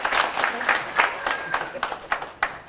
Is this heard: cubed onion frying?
no